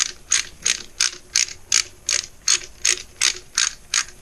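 A ratchet wrench tightens engine case bolts on a 2009 Kawasaki ZX-10R, giving a close, steady run of about eleven sharp clicking bursts in even rhythm with no talk.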